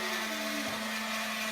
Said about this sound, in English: hold your mixer in there, Audie, or we'll have a mess.